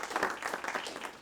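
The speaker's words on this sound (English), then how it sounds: "And some applause," Audience applause for conference panel speakers at a Swiss event, a short burst of dense, steady clapping from a crowd, close and moderately loud.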